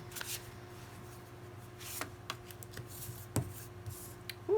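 Tarot cards being handled and drawn from a deck, with soft shuffling, sliding and brief flicks and taps in quick irregular bursts, close up and quiet with no talk.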